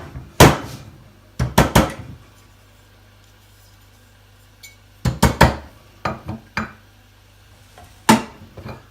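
Old coffee grounds being cleared from a La Pavoni lever espresso machine, with clusters of sharp metallic knocks and clacks, several in quick succession, separated by quiet gaps and a faint low hum.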